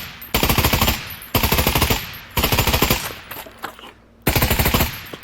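Loud automatic gunfire bursts in the VR shooter Pavlov, four rapid volleys of roughly a second each separated by short pauses, close and dominant with no talk.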